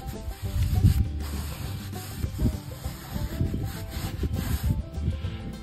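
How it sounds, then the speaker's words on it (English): Brush strokes dry rubbing finish into shed walls, a series of close, uneven scratchy rubbing sweeps with no speech. "I take a little brush for these little light spots. Just kind of dry rub it in there"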